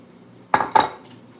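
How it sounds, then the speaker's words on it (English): Dishes clink together in a kitchen, two sharp, close clatters in quick succession against a quiet room, followed by a faint softer rattle. "I need to run the dishes."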